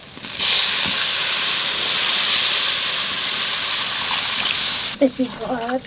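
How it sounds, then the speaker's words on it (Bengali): Water poured into fried spices in a pot over a wood fire sets off a loud, sustained sizzling hiss for several seconds, then it fades and a voice speaks briefly. "মশলা কষানো হয়ে গেছে এইবার জল দিয়ে দেবো"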